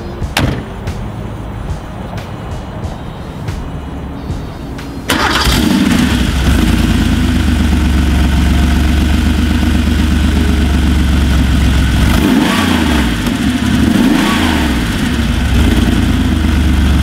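A lime green Porsche 911 IROC RSR tribute cranks and fires up after a few seconds of quieter background, then settles into a loud, close, rumbling idle with a couple of rising and falling revs.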